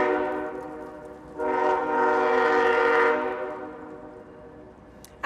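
A train horn sounds a long, rich blast at a boulevard and bridge opening ceremony. The tone is steady, then swells louder in the middle before fading out.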